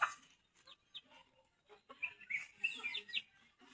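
Chickens cluck and squawk in short bursts, fairly close, with a few sharper high calls toward the end over a quiet yard.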